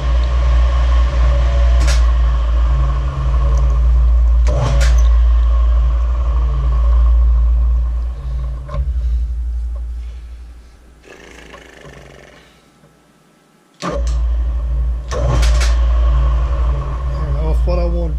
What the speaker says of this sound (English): I'm going to put it in back gear and I'm just going to hit it, start it just right quick